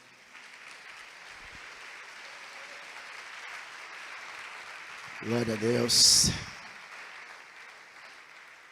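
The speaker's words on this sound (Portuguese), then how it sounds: "Vamos aplaudir o nome dele?" A church congregation claps steadily through a sermon on Joshua, swelling briefly as a voice calls out a short praise over the applause.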